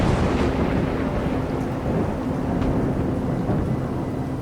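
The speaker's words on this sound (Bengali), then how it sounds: "আচমকা দূরে কোথায় যেন একটা বাজ পড়ল কড়কড় করে।" Thunder in a village horror story at night, a sustained deep rumbling roll with rain noise, loud and continuous without speech.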